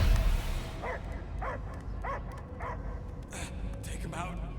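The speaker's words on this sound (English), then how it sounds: "I hear only barking." In the Guardians of the Galaxy video game, a dog barks in a regular series of short, evenly spaced barks over a noisy game background, with some speech mixed in.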